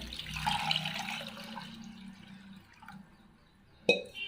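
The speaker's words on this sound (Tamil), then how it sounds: "இப்போ தேவையான அளவு தண்ணி ஊற்றிக்கலாம்" Water is poured into a trikadugu-powder rasam mixture of dissolved spice powder and curry leaves, a close splashing gush that tapers off gradually before a brief sharp clink at the end.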